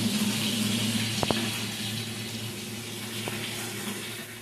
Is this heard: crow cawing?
no